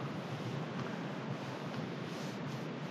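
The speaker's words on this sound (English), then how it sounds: "it's getting windy and a lot of dead trees here" Strong wind roars steadily against the microphone on a wooded trail among dead trees, a thick constant rumble with no voices.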